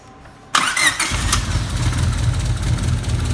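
A Honda Civic with an eBay turbo build cranks and catches suddenly, then settles into a loud, rough, steady idle close by.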